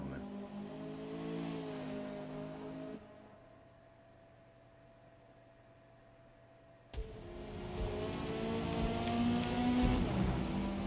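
Race car engine in Forza Motorsport drones steadily, drops to a quieter idle-like hum midway, then surges back loud with rising revs near the end.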